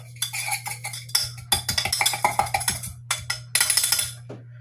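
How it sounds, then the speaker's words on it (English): Mint julep being muddled and stirred, with a run of close, sharp clinks and taps of a spoon or muddler against a glass in irregular bursts over a steady low hum. "Give it a muddle. Give it a muddle. Stir it around."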